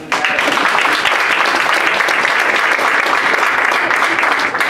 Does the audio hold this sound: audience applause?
yes